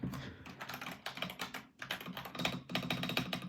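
A Redragon K688 keyboard with linear switches clatters under fast, continuous typing, its dense rapid keystrokes close and crisp, with a brief pause midway.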